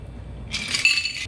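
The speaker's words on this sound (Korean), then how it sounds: "캡을 열고 잔의 밑부분을 잡으신 다음에 따라줍니다." A Cosmopolitan cocktail pours from a shaker into a glass, a short, bright splash of liquid that starts abruptly after a brief quiet moment.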